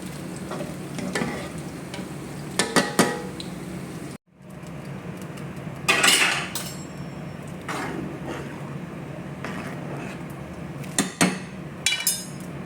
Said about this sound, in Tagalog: papakita ko mamaya kung paano tayo maggisa ng munggo